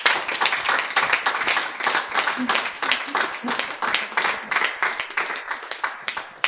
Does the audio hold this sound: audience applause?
yes